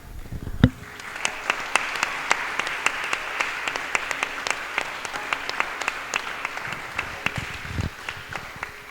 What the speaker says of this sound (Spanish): se merecen ustedes un aplauso